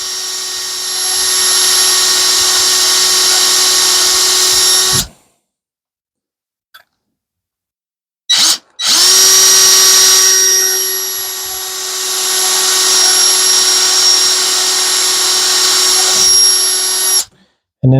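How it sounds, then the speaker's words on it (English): A power drill bores into the wood of a round whiskey/bourbon smoker, a loud, steady whining drone in two long bursts separated by a pause with a brief blip in between. "when you drill in, go straight in till you get it started"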